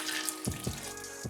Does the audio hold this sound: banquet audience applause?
no